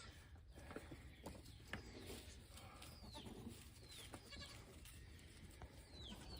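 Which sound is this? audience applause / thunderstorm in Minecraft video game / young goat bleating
young goat bleating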